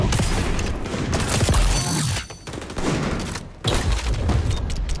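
Rapid shotgun fire and gunfire in the video game XDefiant, dense loud bursts over a busy combat soundscape, with a short gap midway before the shooting resumes.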